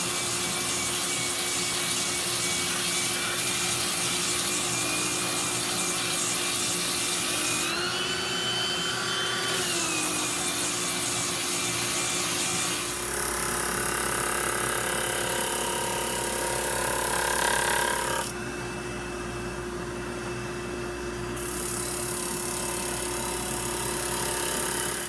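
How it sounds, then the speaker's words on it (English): Small handheld power sander works over rough, dirty pallet wood, a steady whirring motor with gritty rubbing and rasping that shifts in pitch and texture as pressure changes, running close and continuous with no talk. "I'm going to take my small hand sander here and just sand off all the dirt and grit"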